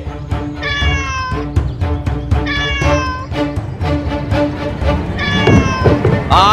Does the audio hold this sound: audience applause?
no